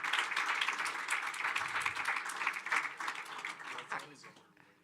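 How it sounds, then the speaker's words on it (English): An audience at a Food Day event at the UN General Assembly gives a round of applause. The clapping is steady and fairly faint, mixed with room noise, and fades toward the end. "Round of applause for them, please."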